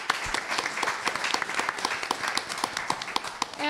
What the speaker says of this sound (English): So if you could just give a round of applause